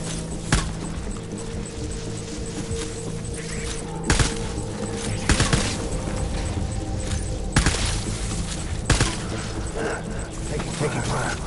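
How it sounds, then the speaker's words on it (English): Bursts of gunfire aimed at a team sound in scattered sharp cracks and volleys, some near and loud, others lighter, under a steady rumbling background. "Taking fire."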